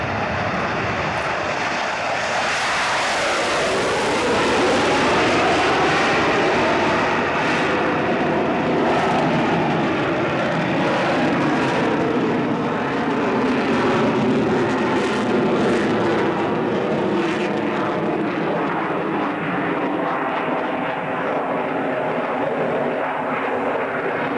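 Military aircraft flown by test pilots in a low pass at the 1992 Boscombe Down air tournament airshow, a loud sustained engine roar whose pitch sweeps downward as it passes close, then lingers as a broad drone.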